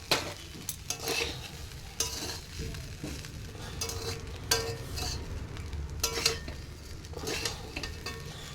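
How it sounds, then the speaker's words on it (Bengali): Fried rice with sugar stirred and fried slowly in a pan, a soft constant sizzle broken by repeated spatula scrapes and clinks against the pan, close. "এবার আস্তে আস্তে আস্তে আস্তে নাড়াচাড়া করে"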